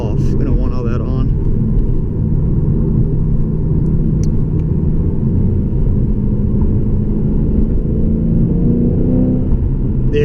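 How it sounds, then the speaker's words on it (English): A Lexus RC F with its 5.0 V8 rumbles loudly and continuously through the exhaust, a deep, dense roar held close for the whole stretch with slight swells as it revs. "The exhaust sounds so good."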